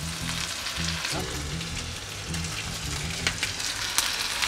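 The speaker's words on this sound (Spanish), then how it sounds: "ya que tenemos el aceite hirviendo en su punto," Pieces of Japanese karaage chicken in a light coating fry in boiling oil, giving a steady, dense sizzle and crackle that fills the clip at close range, with a few sharper pops. No one speaks.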